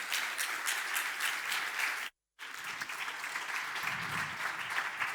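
Audience applause at a public forum in Spain after guests are invited onto the stage: dense, steady clapping from a large crowd, briefly cut to silence midway, then resuming just as full and even.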